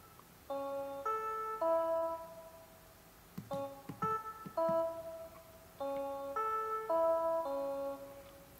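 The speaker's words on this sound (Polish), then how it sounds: "Simon polega na tym, że trzeba zapamiętać sekwencję dźwięków, co teraz zademonstruję." Simple electronic beeping tones from a Simon memory game on a BlindShell Classic 2 phone, played in short melodic sequences of distinct pitches with brief pauses and a few button clicks, fairly quiet and close.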